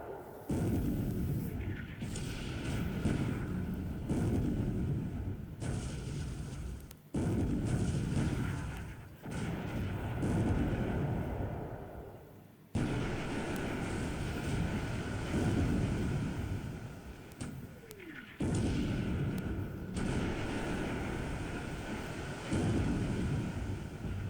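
Naval gunfire from a World War II Pacific naval strategy video game: loud, heavy bursts of booming, roaring rumble repeat every few seconds, with brief drops between salvos.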